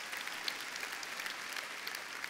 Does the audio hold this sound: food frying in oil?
no